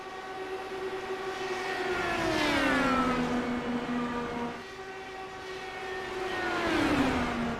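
IndyCar race cars in a racing video game at Gateway scream past with sustained high-pitched engine tones that swell, dip in pitch as they pass, then rise again, loud and continuous with no talk.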